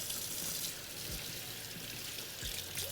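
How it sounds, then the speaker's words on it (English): Water from a kitchen tap runs in a steady, close rushing stream as soap is rinsed off a knife and hands after handling hot pepper oil. No one speaks. "soap and water for sure on the knife and our hands"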